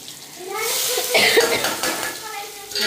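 Someone coughs and splutters from the sharp fumes of chillies being roasted for chilli powder. The coughing comes in a brief burst up close, with kitchen clatter around it.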